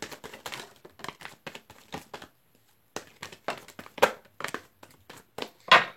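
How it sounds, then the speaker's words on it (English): Tarot cards being shuffled by hand, a rapid series of crisp papery riffles and slaps in short bursts with a brief pause midway, close and fairly quiet. "Last shuffle."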